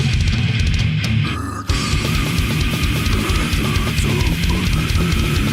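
Defeated Sanity, a death metal band, playing at full tilt: a dense, loud wall of low-tuned distorted guitars, bass and rapid drumming that drops out for a split second before slamming back in and continuing unbroken.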